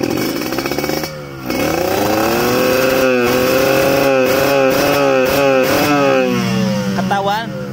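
A motorcycle engine revs repeatedly during carburetor tuning, its pitch climbing and falling in close, loud throttle blips after a brief dip at the start, with someone talking over it.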